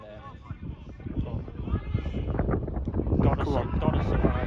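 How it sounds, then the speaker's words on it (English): Gusty wind buffets the microphone at a seaside football ground during a Welsh non-league match, a rough continuous roar that swells louder toward the end while people talk and shout over it. "It's windy as fuck here."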